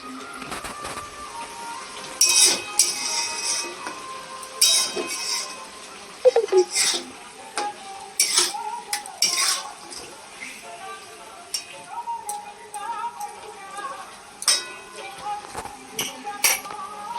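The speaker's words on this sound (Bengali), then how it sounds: "এইরকম 10 থেকে 15 মিনিট এইভাবে কষতে হবে মাংসটা" Chicken is sautéed and stirred in a pan: repeated metallic clinks and scrapes of a spatula over a constant frying hiss, with a voice talking at times.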